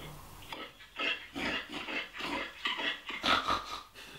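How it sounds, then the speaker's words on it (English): Grunting, snorting reindeer calls come in a rhythmic series of rough pulses, played back fairly loud through a phone speaker. "A reindeer sounds like this."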